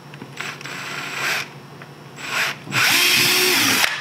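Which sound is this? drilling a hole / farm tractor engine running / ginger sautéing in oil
drilling a hole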